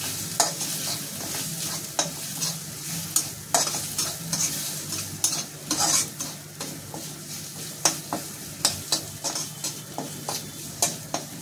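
A spoon scrapes and taps repeatedly through a sizzling mix of mashed potatoes and spice masala in a pan, irregular knocks over a soft frying hiss, close and with no talking.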